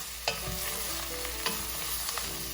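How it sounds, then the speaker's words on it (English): Squash and carrots with onions, spices and herbs stirred in a pan, a steady sizzle with a few sharp scrapes and knocks of the utensil against the pan, close and even. "keep stirring that in with the rest of the onions and the spices in there and the herbs"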